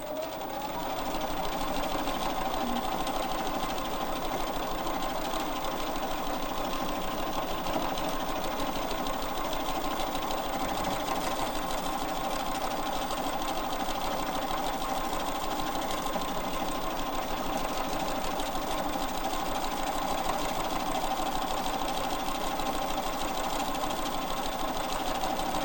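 Sewing machine stitching out a quilt border, running continuously at a steady pace for the whole stretch, an even mechanical whirring hum with rapid needle chatter, close and unbroken by speech.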